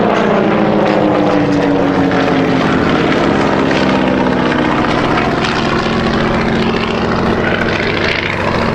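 A piston-engined Percival Provost trainer aircraft flies overhead at an air display, its propeller engine droning loud and steady throughout with a slowly shifting pitch.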